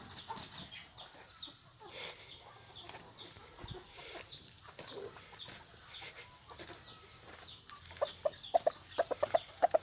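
Chickens cluck in scattered, uneven bursts at moderate distance. Sharper, louder clucks gather toward the end.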